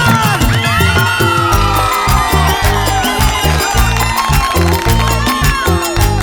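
A loud crowd shouts and cheers over pounding, steady live harp-band music, with whoops rising from many voices throughout.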